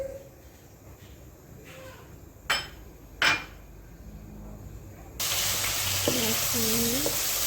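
A couple of sharp clanks, then a loud hiss and sizzle of onions hitting hot oil in a wok, continuing steadily with a brief voice under it.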